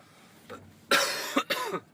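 A harsh, severe cough erupts from a person, a sudden loud burst followed by two more rough hacks in quick succession, close to the microphone after a faint earlier throat sound.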